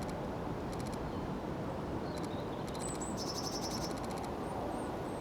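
Blue tits in cherry blossom call in quick bursts of high, thin chirps and short trills, repeated several times, faint against a constant outdoor rumble.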